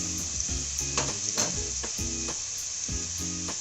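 Chopped garlic frying in hot oil while being stirred for hilsa fish dupeyaza: a continuous close sizzle broken by repeated rhythmic clinks and scrapes of a metal spoon against the pan, with no one speaking.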